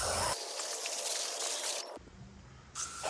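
A pressure washer spraying a rinse over a house exterior, a close, hissing rush of water that shifts in tone as the stream moves, with a short break before spraying resumes.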